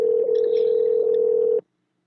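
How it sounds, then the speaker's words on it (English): A telephone line tone plays while a call is placed to a radio guest: one steady, loud, unbroken tone lasting about a second and a half, then cutting off abruptly into silence. "we are going to try to call in Mr. Brodus Clay, Tyrus from TNA"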